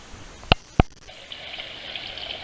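Water pouring into a quarantine tank from a newly installed pump and filter combo, a steady soft gushing flow that follows two sharp knocks.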